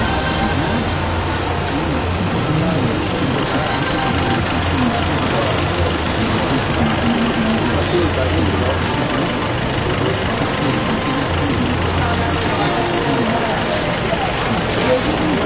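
A Kinshasa traffic jam fills the air with a steady, loud rumble of idling car engines, a dense continuous drone with faint scattered noises from the street and no pauses.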